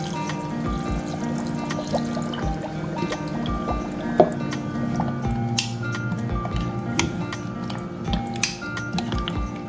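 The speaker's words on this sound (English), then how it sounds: "and then we'll then add in the water." Water pours and trickles into a blender jar with soft splashes, occasional clinks and drips, fairly quiet and close, with no talking.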